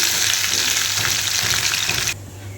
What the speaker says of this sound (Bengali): মাছের মাথাগুলো আজ আমি ভালো করে ভেজে নিলাম